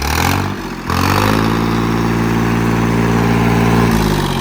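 A Mahindra Arjun Novo tractor engine runs with no silencer, its raw exhaust blasting loud and close in a steady, harsh roar that dips briefly near the start before holding a constant heavy drone.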